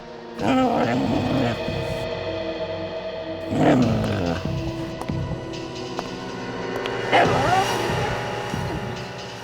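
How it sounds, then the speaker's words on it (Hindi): A dog whimpers and wails in long, mournful cries that rise and fall in three separate bursts, close by and fairly loud, over a low rumbling background. "ये कुत्ता रो रहा है।"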